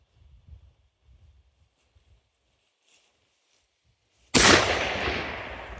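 A single loud rifle gunshot at a shooting range cracks sharply near the end and rings out in a long decaying tail, after faint low murmuring beforehand.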